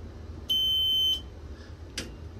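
An alarm panel lets out a single steady electronic trouble beep of about three-quarters of a second after the smoke detector power fuse is pulled, followed by a short click, with no talk.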